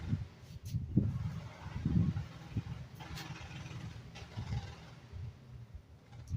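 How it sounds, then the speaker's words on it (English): Somewhere out in the woods, a car engine revs hard while the vehicle struggles and fails to move, giving a low, uneven roar that surges and falls in several pushes at a moderate distance. "They keep flooring it and it ain't moving."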